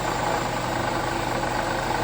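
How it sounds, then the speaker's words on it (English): A 2009 Chevy Silverado engine with a knocking water pump runs steadily at idle, a dense, continuous mechanical drone heard up close, with no distinct separate knocks standing out. "I can put my ear to it and I can hear the knocking really loud"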